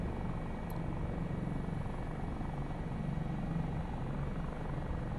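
Dauphin helicopter in Microsoft Flight Simulator, a steady close rotor and turbine drone with a low chopping throb that holds at an even loudness throughout, no voices over it.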